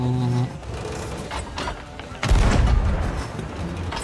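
Cannon shots fired at a ship in the Sea of Thieves video game: a sharp boom followed by a heavy, rumbling blast midway, set against ongoing game sounds and a voice talking.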